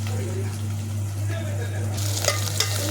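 Onions and three large tomatoes fry in oil for a bitter gourd curry, giving a continuous close sizzle over a steady low hum, brightening with stirring scrapes and a couple of clinks near the end; no talk.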